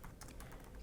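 Quick burst of typing on a computer keyboard, several close, crisp key taps in fast succession in a quiet room.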